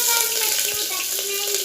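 Curry leaves sizzling in hot oil with bay leaf, cloves and cardamom for tomato rice, a steady close crackling hiss with brief pops, no talk.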